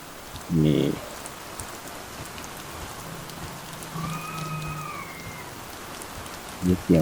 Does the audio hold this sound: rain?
yes